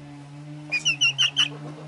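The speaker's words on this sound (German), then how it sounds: "das piepst ja noch immer, wie verrückt. Ist ja auch ein Hahn." Young rooster chicks peep in a quick burst of four or five high, shrill calls over a steady low hum, close by and fairly loud.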